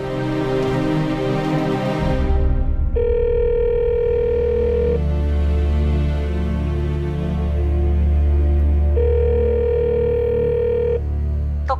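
A telephone call goes through, with a rising electronic tone followed by two long, steady ringing tones separated by a pause, over a low droning hum.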